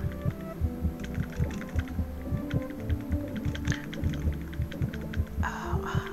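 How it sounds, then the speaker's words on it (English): A steady, rhythmic heartbeat throbs in the underwater survival game Far Sky, loud regular double thumps over a low ambient hum, with no voices. "Oh, heart beating."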